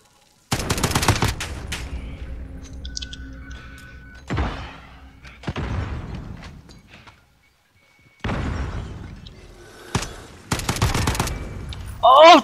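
Bursts of gunfire in a shooter video game, several loud volleys separated by short gaps, with sharp impact thuds and excited voices talking between the shots.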